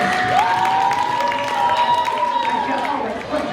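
Game show studio audience cheering and applauding for the blue team players, a steady wash of crowd noise with a sustained whistle-like tone running through it.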